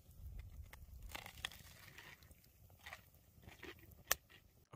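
Crunchy food chewed and bitten close to a microphone during a taste test, with a steady run of soft crunching and crinkling and one sharp crunch near the end.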